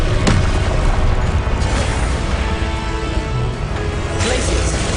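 Confringo fire spells burst in Hogwarts Legacy amid dense combat noise, with short sharp blasts at the start and near the end over a constant loud rumble, while a voice calls out.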